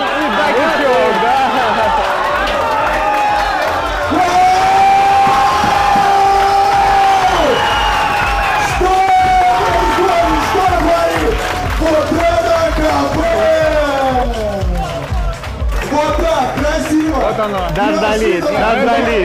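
At a freestyle wrestling tournament bronze bout, a large arena crowd cheers, whoops and applauds in a loud, sustained roar, with shouted voices rising and falling and an announcer talking over the noise.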